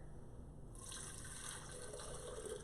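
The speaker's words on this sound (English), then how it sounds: "So we're going to pour this in the blender." Shredded coconut and its soaking water pour into a blender, a steady watery rush with a bright hiss that swells partway through and keeps flowing to the end.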